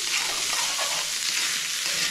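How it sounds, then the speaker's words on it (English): A shot of Worcestershire sauce sizzles over evenly chopped frying vegetables, a loud, dense, continuous hiss up close with faint stirring underneath and no talking. "I'm gonna hit this with a shot of Worcestershire sauce"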